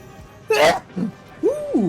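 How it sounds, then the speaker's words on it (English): A single sharp, breathy sneeze bursts out close to the microphone, followed by short voiced sounds from the same person. "I'm about to sneeze though."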